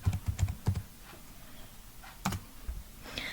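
Typing on a computer keyboard: a quick cluster of close key clicks, a pause, then a few more taps and a soft rattle near the end.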